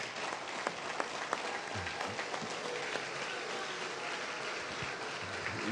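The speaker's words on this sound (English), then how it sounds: "Give them a round of applause." An audience at an anniversary celebration of the Arkansas Martin Luther King, Jr. Commission applauds the standing commissioners, a continuous wash of claps with scattered sharper hits that holds steady throughout.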